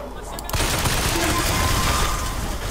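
An explosion in the video game BioShock Infinite, a sudden loud burst that swells into a dense, rumbling roar and holds for a couple of seconds before easing slightly.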